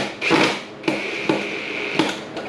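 Pocket hole screws, 2.5-inch, are driven into wooden desk boards in a few short separate bursts, each a loud near whirring buzz with sharp onsets, and no voices are heard.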